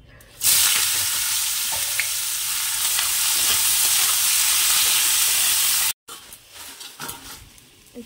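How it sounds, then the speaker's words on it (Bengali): Potatoes frying in a pan make a loud, steady close sizzle for several seconds, then a sudden cut to quieter kitchen rustling and faint sputter. "তো আলু ভাজাটা আগে বসিয়ে দিই"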